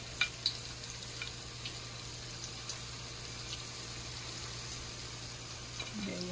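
Salmon patties frying in a pan over moderate heat, giving a faint, steady, even sizzle with a low background hum and a couple of light clicks at the start.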